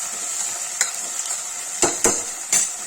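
Potatoes and onions frying together in a pressure cooker, stirred with a utensil: a steady sizzle of oil runs throughout while several distinct scraping stirs land near the mic, spaced irregularly toward the end.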